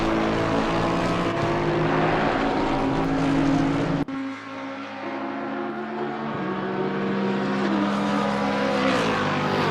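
Race car engines in the Assetto Corsa Competizione sim at Suzuka, a Lexus among the GT field, drone steadily with shifting pitch, dropping briefly around four seconds before building again, with no talk over them.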